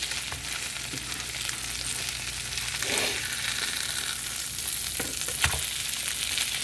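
Lamb chops fry in a hot pan with a steady, close sizzle that carries on throughout, broken by a few louder crackles and the scrape of stirring, with no voices.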